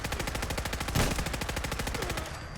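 Militia carbine in Fallout 4 firing in a fast, even automatic burst, sharp repeated shots that run steadily for a couple of seconds before cutting off.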